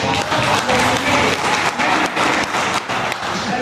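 Enthusiastic audience clapping at a Hindi poetry gathering held for a Ganesh festival at a teacher education university, a steady crowd roar of applause running throughout with a voice faintly mixed in.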